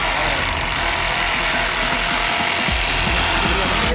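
A Sawzall reciprocating saw cuts through a frozen ice cream cake with a loud, continuous, rasping mechanical buzz that stays close and steady throughout.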